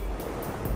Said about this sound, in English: As the water flows over the rapids, it cuts deep into the bedrock below.